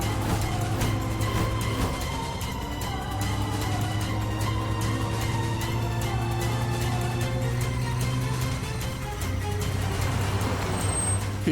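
A road vehicle drives and turns, its steady low engine drone and hum running continuously with slight shifts in pitch, fairly loud and close throughout.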